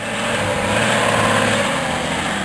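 A BMW xDrive all-wheel-drive SUV's engine revs steadily and loudly close by for a couple of seconds, a continuous whirring drone with a slight rough, buzzy edge and no talking.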